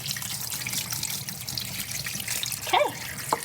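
Water trickling and draining in a kitchen sink after rinsing Miracle Noodle rice, a soft continuous patter with a couple of brief drips or clinks near the end.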